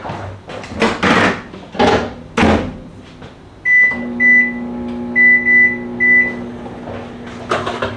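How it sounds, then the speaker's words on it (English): Kitchen clatter and a door closing, then a microwave oven hums steadily for about eight minutes of cooking steak while a series of beeps sounds, ending with more clanks. "I'm going to put it in the microwave for about 8 minutes."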